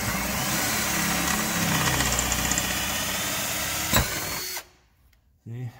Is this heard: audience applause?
no